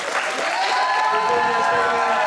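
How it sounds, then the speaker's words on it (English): A comedy club audience in Bristol claps loudly and densely, a full wash of applause with rising cheers and a sustained tone above it. "Build that up into like a football clap"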